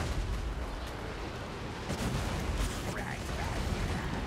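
Skaven bombardiers attacking in the battle game Total War: Warhammer 2, a dense, continuous roar of distant artillery and gunfire bursts with scattered pops, under occasional talk.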